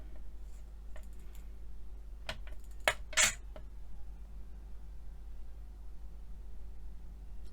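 A few crisp snips cut through a sheet of mica in a short cluster midway, fairly close, over a low steady hum with no talking.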